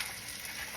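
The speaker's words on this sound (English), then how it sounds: "nice sizzle." Filet mignon sizzles in butter in a pan, a steady, dense frying hiss that stays close and fairly loud throughout the short stretch, with no talk over it.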